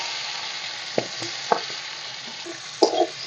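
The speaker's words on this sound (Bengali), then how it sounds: "তেলের মধ্যে দিয়ে দিচ্ছি একটা শুকনো লঙ্কা আর একটু পাঁচফোড়ন মটরশুঁটি আর দিয়ে দিচ্ছি টমেটো" Dry red chilli, panch phoron, green peas and tomato frying in hot oil give a steady, close hiss of sizzling, with a few sharp pops and spits near the end.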